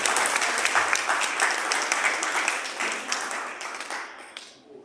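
Indoor audience at a teacher's day event clapping after a poem, a sustained burst of applause that stays full for a few seconds, then thins and fades out.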